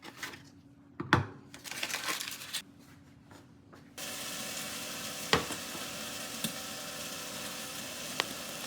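Unsalted butter heating in a frying pan in a home kitchen: a faint crackle with a few sharp clicks and knocks, turning into a steadier, louder sizzle partway through.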